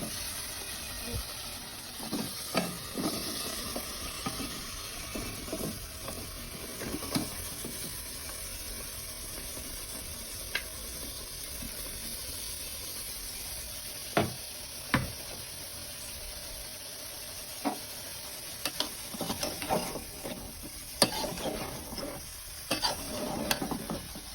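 Bottle gourd with shrimp fries in a pan, a continuous soft sizzle broken by scattered clacks and scrapes of stirring that grow more frequent toward the end.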